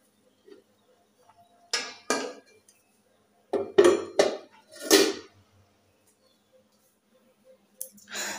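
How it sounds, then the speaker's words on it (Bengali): A metal lid is set over a pan of frying oil in a home kitchen, giving several sharp clanks and rattles in quick bursts, separated by near-silence. "তেলটা ঢেকে রাখি ঢাকনা দিয়ে"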